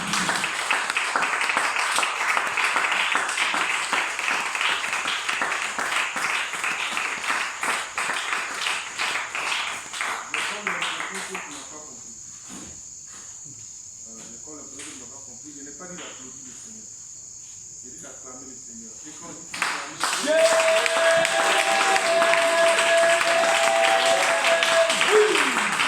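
A church congregation applauds and cheers in acclaim of the Lord, dense loud clapping filling the room, then easing to quieter scattered sounds before the loud applause swells back in.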